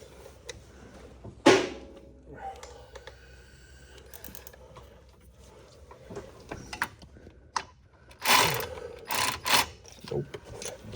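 A ratchet with a swivel socket works on an oil filter housing bolt of a 2017 Dodge Ram 1500, giving scattered mechanical clicks and clanks with a few sharper metallic bursts near the end.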